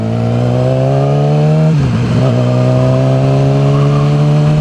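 Motorcycle engine running with its stock muffler removed: a loud, raw, steady idle drone, briefly blipped with a quick rev and dip before settling back to the same throaty idle, close by.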